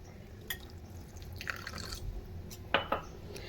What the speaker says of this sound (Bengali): এবার এখানে আমি অ্যাড করে দেব এক কাপ জল